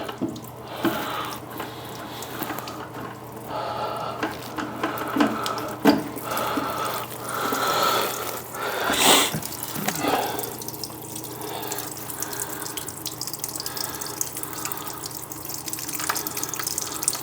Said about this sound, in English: So you're going to see the water leak out there.